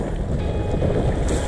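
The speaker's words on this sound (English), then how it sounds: "And the wind blowing me back." Gusty wind buffets the microphone on a river while someone paddles a big 14-foot kayak on the New River, a loud, close rumbling rush with no voices.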